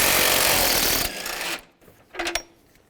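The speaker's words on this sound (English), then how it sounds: "Now take these 2 bolts off, use a 15mm socket." A power ratchet or impact tool whirs loudly for about a second while removing a 15mm bolt on a 2006-2011 Cadillac DTS radiator cooling fan assembly, followed by quieter clicks and a short second burst.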